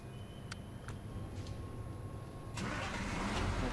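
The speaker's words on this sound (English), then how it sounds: "Is the engine still running on it?" A truck engine in SnowRunner cranks and catches, with faint clicks early, then a louder low rumble settling into an idle near the end.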